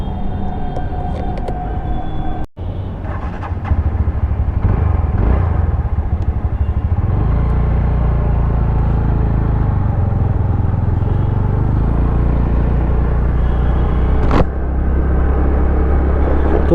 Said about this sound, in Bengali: তো চলো বাইকটা স্টার্ট করি আর তোমাদের সঙ্গে শেয়ার করি বাইকটা কেমন